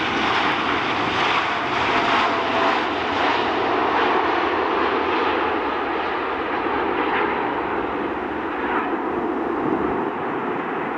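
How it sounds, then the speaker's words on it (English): A Lufthansa Boeing 747-430 roars steadily throughout during an emergency landing at Gander International Airport, a loud, broad engine rumble with no voices. "A Lufthansa Boeing 747-430 performs an emergency landing at Gander International Airport"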